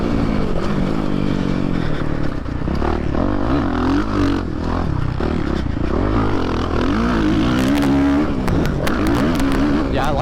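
A Suzuki RM-Z450 dirt bike engine revving and shifting pitch up and down continuously as it rides a motocross track, loud and close, with a rider talking over it.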